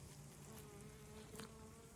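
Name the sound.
bees buzzing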